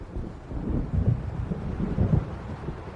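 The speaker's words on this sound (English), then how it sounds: "It seems there's a storm coming." Low rolling thunder rumbles through a stormy night over dark water in the video game Alan Wake Remastered, swelling in deep, heavy waves beneath a wash of wind and rain, with no voices.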